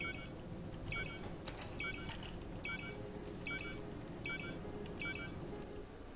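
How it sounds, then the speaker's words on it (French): A regular electronic proximity beep in the video game Star Citizen pulses repeatedly, roughly once per second, in a steady rhythm over a constant low background rumble. "vous allez entendre le bip qui va aller en accélérant plus vous vous en approchez"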